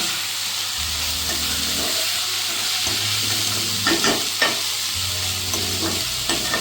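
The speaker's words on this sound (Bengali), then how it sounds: "ফ্লেমটি জোরে দিয়ে এবার এইভাবে 5 সেকেন্ড মতো এইভাবে একটু নেড়ে চেড়ে নেব" Note shak greens being stir-fried over a high flame in a Kolkata home kitchen, a continuous loud sizzle with steam hiss and scraping spatula strokes against the pan.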